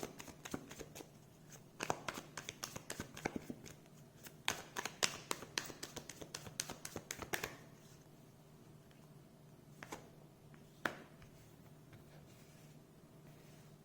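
Tarot cards being shuffled by hand, a quick run of soft riffling clicks and taps for several seconds, then quieter pauses with a couple of isolated card snaps, close and gentle without talking.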